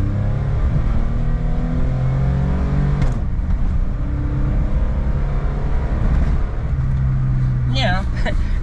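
A small automatic kei car engine revs up and accelerates steadily in a low gear, droning loudly throughout with rising pitch, while a person talks over it.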